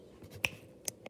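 A few sharp finger snaps, quiet and close, three or four crisp clicks spaced unevenly over about a second with no talking.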